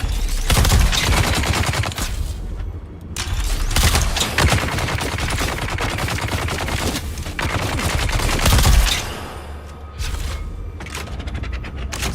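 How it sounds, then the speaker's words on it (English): Gunfire in the video game Dune Awakening: a loud, dense run of rapid shots rattles almost continuously for about twelve seconds, with only brief dips between bursts. "Well, actually, I'll just shoot."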